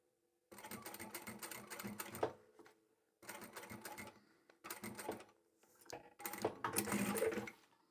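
A sewing machine stitches straight across a scrap-fabric coin pouch in several bursts of close, fast mechanical whirring, with short pauses between runs.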